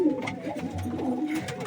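Pigeons coo softly and repeatedly just after their coop is opened, the low, throaty calls overlapping close by against a quiet background.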